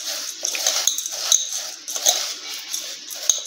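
Water sprinkled by hand over dry poha (flattened rice) in a bowl, followed by mixing, giving soft, irregular wet patters and light clinks close by with no talk.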